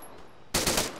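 Gunfire in the military shooter Arma 3: after a quiet moment, a short loud burst of rapid automatic shots rings out close by, fading with a brief echo, with no talking.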